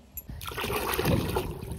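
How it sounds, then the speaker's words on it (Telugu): Water is drawn and poured for a bath at home, a short close splash followed by steady gushing and trickling. "మా అవ్వ కోసం అయితే నీళ్ళు తోడుతున్నానండి"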